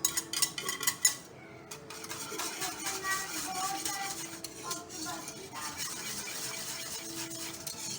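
Date-tamarind chutney with garlic and fennel powder being stirred in a pot, a few sharp utensil clinks at the start, then steady scraping and mixing sounds at close range with no talking.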